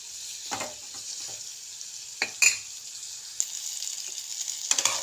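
Ridge gourd, green chillies and garlic cloves frying in a pan with tamarind, giving a continuous sizzle broken by sharp scraping stirs of a spatula; no talking.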